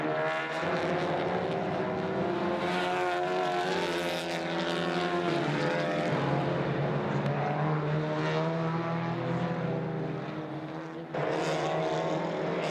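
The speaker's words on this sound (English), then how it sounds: "The car's dropping down now towards this double left-hander" A Honda Civic TCR race car at Spa, fielded by West Coast Racing, drones loudly and steadily at close range, its engine pitch rising and falling as it runs through corners, with no talk.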